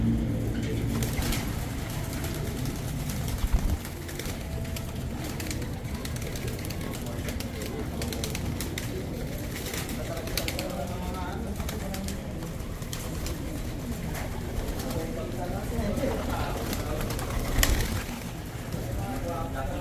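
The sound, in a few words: pigeons cooing in a breeders loft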